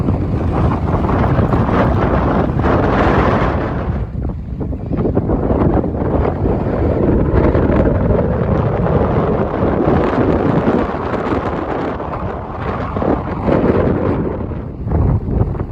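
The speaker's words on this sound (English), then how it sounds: "Look at the sea. That's a wild sea, eh?" Strong wind buffets the microphone over a rough, crashing sea, with continuous broadband roar and surging waves rising and falling throughout, loud and close.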